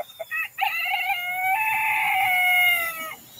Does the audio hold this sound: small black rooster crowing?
yes